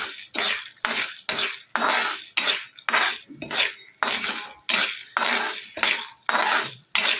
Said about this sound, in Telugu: ఇలా కలుపుకుంటూ ఫ్రై చేయాలి, లేకపోతే కింద సాల్ట్ పసుపు మొత్తం మారిపోతుంది